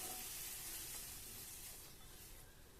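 Vegetables for a rainbow vegetable Chinese noodle casserole hit a hot noodle pan over a flame, giving a steady, close sizzling hiss that eases slightly toward the end.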